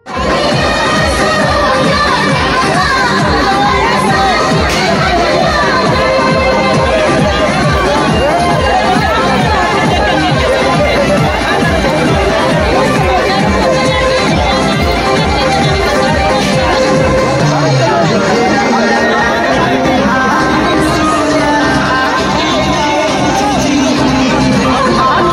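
A large crowd mills around a riverside ghat during the Chhath festival, loud dense chatter and children's shouts forming a continuous babble, with a distinct clapping rhythm through much of it.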